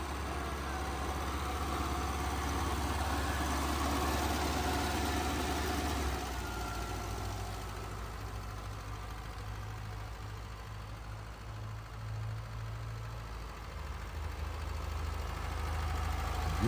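Air-cooled engine of a 1978 Volkswagen Beetle with double exhaust idles steadily in Nigeria, a continuous low rumble close by with no talk.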